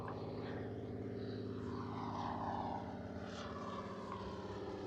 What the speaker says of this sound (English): there's a plane going over right now